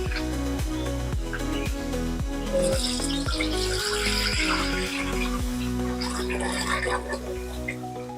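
Water pours and splashes while a vessel holding leftover arrowroot flour is rinsed out. A sustained hiss of running water lasts several seconds beneath prominent rhythmic music.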